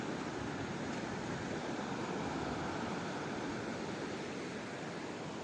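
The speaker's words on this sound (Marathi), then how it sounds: "खूप छान सुंदर समुद्र किनारा आहे तुम्ही बघू शकता" Steady broadband rush of surf washing onto a shore, continuous and fairly loud, with wind noise mixed in and no voices.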